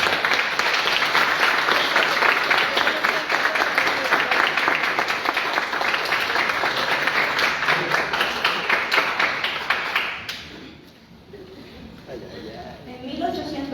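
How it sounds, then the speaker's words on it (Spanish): Sustained applause from an event audience, dense steady clapping that carries strongly for about ten seconds, then cuts off abruptly into quieter room sound. "pido a los presentes entonces que le demos un fuerte aplauso a"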